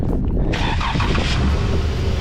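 A 2015 Dodge Challenger, previously failing to start because of a single wire fault, cranks and fires up nearby, a loud burst of starter and engine noise settling into a steady idle.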